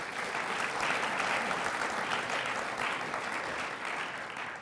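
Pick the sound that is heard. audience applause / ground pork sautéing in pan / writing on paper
audience applause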